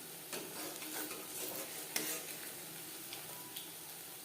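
Battered drumstick flower pakora fritters fry in oil with a quiet, continuous sizzle broken by a few light ticks and clinks, with no voices.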